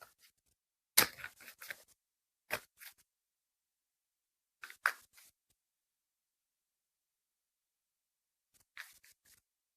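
Quiet, sporadic riffling and snapping of African Goddess Rising Oracle cards being shuffled up close, short crisp bursts separated by near silence.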